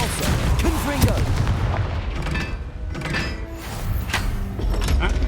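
Confringo blasting spell explosions in the video game Hogwarts Legacy, dense rumbling booms and thuds mixed with busy game noise, staying loud throughout with a few sharper hits.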